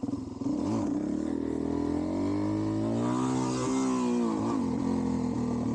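A Suzuki DRZ400SM motorcycle fitted with a 12-tooth sprocket revs hard and rises in pitch as it pulls a wheelie, its engine loud and close with wind rushing throughout.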